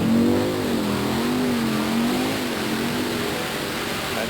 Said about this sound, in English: A Chevrolet panel truck against the Ford pickup.